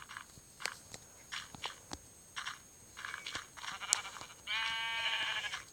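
Sheep bleating in the video game Minecraft PE, several short bleats scattered through the stretch, then one longer wavering bleat near the end, fairly quiet and without talk.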